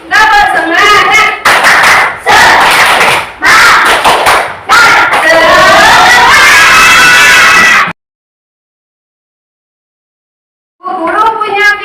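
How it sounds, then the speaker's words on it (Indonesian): A school class claps a rhythmic spirit-clap pattern in loud bursts of quick hand claps mixed with children's shouting, then a pause of silence before the clapping starts again. "kita tepuk semangat dulu ya. Tepuk semangat."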